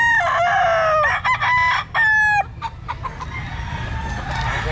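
Roosters crow repeatedly at close range, several long rising-and-falling calls overlapping in the first half, then fading into steady low background noise with softer fowl sounds.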